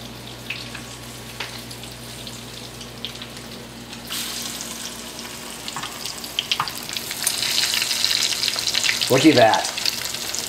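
Chicken nuggets fry in a pan with a soft, steady sizzle that builds louder toward the end as they are turned and stirred, with a brief clatter. Someone speaks briefly.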